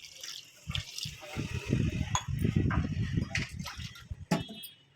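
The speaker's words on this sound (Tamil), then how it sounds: "நம்ம வந்து நான் தேங்காய் பால் வந்து 2 டம்ளர் எடுத்து வச்சுருக்கிறேன். அதை வந்து ஆட் பண்ணிக்கலாம்." Two tumblers of coconut milk are poured into a pot of rice for chicken biryani, a close gurgling, splashing pour that swells for a few seconds and then trickles off.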